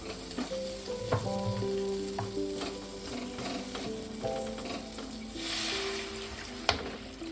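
Bitter gourd being stirred into fried spice paste in a pan for a small-fish curry with lentil bori, giving a continuous sizzle broken by repeated scraping stirs and a sharp clink near the end.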